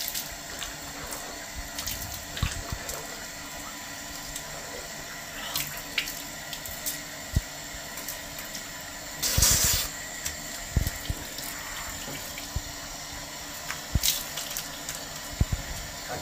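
Running tap water at a wash basin while hands are washed, a steady quiet stream with occasional splashes and a louder gush near the middle, heard close up with no talking.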